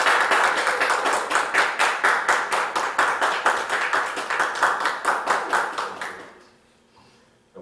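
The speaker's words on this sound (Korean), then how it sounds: "우리 큰 박수 주시기 바랍니다." A church congregation in Korea claps at a Children's Sunday award ceremony, a rhythmic, unison beat at a steady pace that carries on for about six seconds before fading quickly into quiet.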